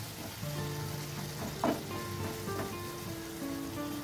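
Soft sizzle of a raw banana and green bean curry cooking in a pan with a little added water, with a brief scrape of stirring midway, faint and steady throughout.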